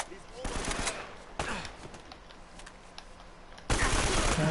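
Automatic gunfire bursts from the video game Uncharted: Drake's Fortune, repeated rattling volleys with a louder sustained burst at the end, while someone talks over the shooting.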